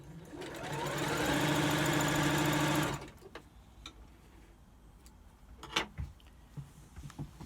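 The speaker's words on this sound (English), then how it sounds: "we take it to the sewing machine. And we sew along the side with a 1/4 inch seam" A sewing machine sews a quarter-inch seam along a fabric strip for a log cabin quilt block, running steadily for about three seconds with a fast mechanical whir, then stops, leaving quiet handling clicks and taps.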